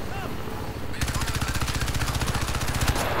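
Rapid automatic gunfire in Crysis 3 multiplayer, a dense rattling burst that starts abruptly and continues steadily, loud and close, with game ambience beneath.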